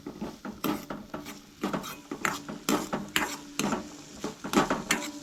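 Cabbage Manchurian vegetables fry lightly in a pan, with a close, irregular run of clinks and scrapes as a spoon stirs against the metal, under a soft sizzle and with no one talking.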